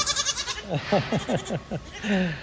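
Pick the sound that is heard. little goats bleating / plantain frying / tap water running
little goats bleating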